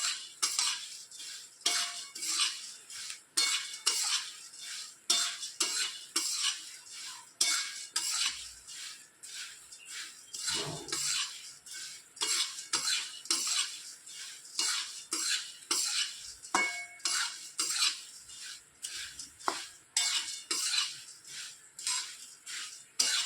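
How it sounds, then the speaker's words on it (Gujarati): A spoon scrapes and clatters rhythmically against a bowl as spiced puffed rice is tossed for bhel, close and continuous, with no talking. "મમરામાં મિક્સ કરી લઈએ"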